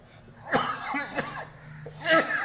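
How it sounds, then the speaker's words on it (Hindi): A single sharp cough bursts out, followed by a second throat-clearing cough a moment later, close and fairly loud, with faint voiced sounds in between. "खांसी आ गई"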